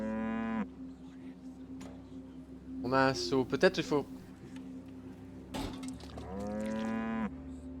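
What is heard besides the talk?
cow mooing in the video game Riddlewood Manor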